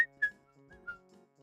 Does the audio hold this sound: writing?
no